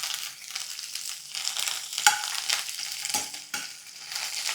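Onion chutney with curry leaves and coriander frying in a little oil, a close steady crackling sizzle with stirring scrapes and a few louder pops and knocks.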